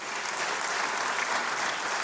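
A parliamentary assembly breaks into sustained applause, a dense, even roar of many hands clapping together without pause.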